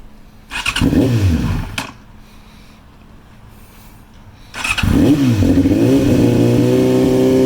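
A Yamaha R6 sport motorcycle engine is cranked and fires, drops back, then starts again into a loud, steady idle with close, throaty revs.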